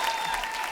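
A brief burst of studio audience applause on a television comedy talk show set, close and busy clapping with a faint steady tone running through it.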